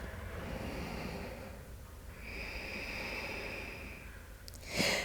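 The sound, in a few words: deep yoga breathing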